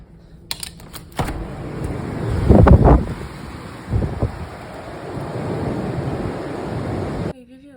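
Strong gusting wind from a powerful storm roars and buffets, heard indoors, with bursts of rushing noise rising and falling against a steady whooshing background.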